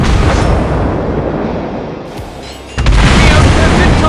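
Naval gunfire and explosions in World of Warships with a Tier X Cristoforo Colombo: loud, heavy booming rumble that briefly dips, then erupts again in a dense blast.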